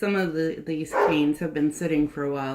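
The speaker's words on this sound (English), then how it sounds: "sorry about the dogs" Dogs bark in a quick run of close, sharp yips and woofs indoors, overlapping a person who keeps talking throughout.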